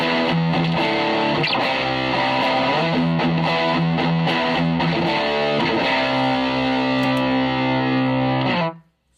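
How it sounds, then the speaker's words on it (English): An electric guitar runs through an overdrive feeding a distortion pedal on a Cerberus effects unit, playing loud, saturated chords and riffs up close before the last chord cuts off sharply. "I put the overdrive before distortion, so I use the overdrive to push distortion like a gain boost"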